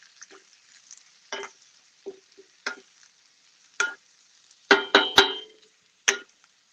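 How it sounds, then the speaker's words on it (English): Onions frying in a pan, with a quiet sizzle under a series of sharp scraping and stirring clatters from a utensil at irregular intervals, close by and with no talking. "we're getting a little color on those onions there"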